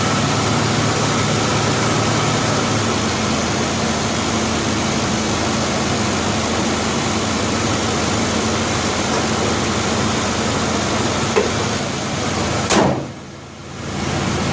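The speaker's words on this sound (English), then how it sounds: "The engine's very, very smooth, quiet, clean, runs fantastic." An early 1990s Geo Tracker engine runs at a steady, smooth idle, a continuous low hum heard close up with no talking. It cuts off abruptly near the end, leaving near silence.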